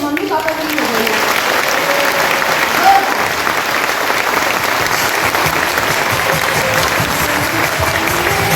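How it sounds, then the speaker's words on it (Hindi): A large seated audience gives sustained, loud applause at a motivational talk, dense steady clapping filling the whole stretch with a brief surge of cheering partway through, close and enveloping. "मैं चाहूंगी आप लोग एक बार जोरदार तालियां मेरे मम्मी पापा के लिए बजाइए"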